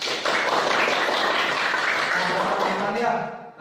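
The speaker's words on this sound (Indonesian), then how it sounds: "Tepuk tangan dulu buat kita semua." Pupils in a classroom clapping together in a steady, dense burst of applause that carries at even loudness for about three seconds and then tapers off.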